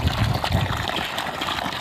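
Water runs steadily into a crab tank being refilled with fresh water, a soft continuous rushing and trickling heard up close for a short stretch.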